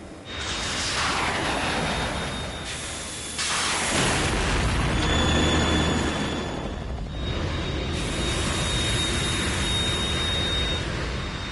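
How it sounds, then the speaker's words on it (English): A Harrier jet in a Metal Gear video game roars loudly with dense rumbling engine noise and booming blasts, a sustained thunderous wash that swells, briefly drops and returns, with a thin high electronic tone running across it. "You have to shoot the Harrier down."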